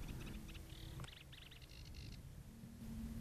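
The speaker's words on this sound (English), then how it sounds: "every bush is alive with the sound of the warblers" Several warblers sing and chirp in quick bright phrases from the bushes of the Butley estuary in Britain, over a low steady rumble, fading out toward the end.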